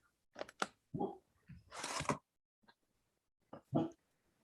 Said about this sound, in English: I'm hearing somebody's dog.